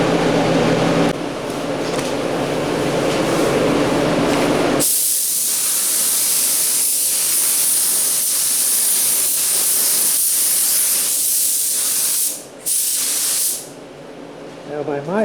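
A spray gun lays EC530 paint onto the inside of 1977 Camaro Z28 doors, giving a loud, steady hiss that runs almost nonstop after a quieter start and breaks off briefly near the end.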